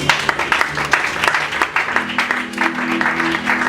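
A church congregation claps and cheers loudly in sustained applause, dense and continuous throughout, with a few voices and a tonal hum underneath.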